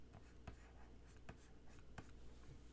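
Pencil or pen drawing and inking on paper, faint soft scratching with several sharp stroke ticks spaced irregularly over a quiet background, no voice.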